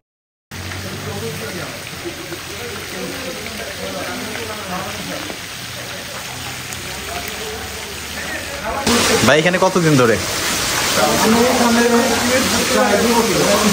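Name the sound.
fish frying in mustard oil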